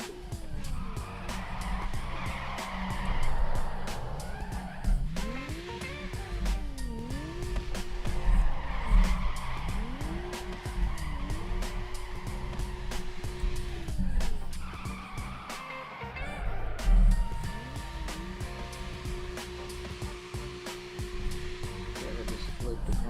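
A video game car drifts, its engine revving up and down in repeated swells while long tire squeals and skids ride on top, loud and continuous, with brief drops where the throttle lifts.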